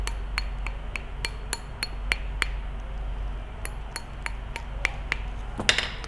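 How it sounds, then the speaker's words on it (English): A hammer striking a metal spoon ring on a steel ring bending tool to stretch it, a series of sharp metallic taps at an uneven pace, close and loud, with no talk. "I can go ahead and stretch that out just with the hammer on here."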